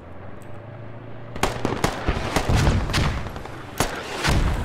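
Sharp explosive cracks and gunshots in the Squad military shooter follow a low engine drone. Several loud, close impacts in quick succession rise over a noisy battlefield background.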